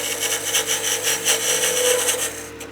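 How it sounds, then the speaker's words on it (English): A skew chisel takes a peeling cut on spinning wood on a lathe while forming a tenon for a pepper mill, giving a continuous close, bright scraping hiss with a fast rhythmic pulse from the rotating piece. "I'll be using my skew as a little peeling cut to make a tenon."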